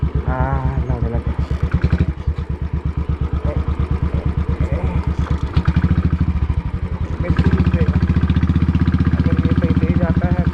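A Royal Enfield 350 motorcycle thumps steadily on a rough off-road track, its single-cylinder pulses loud and close, with the engine note rising and dropping as the throttle changes.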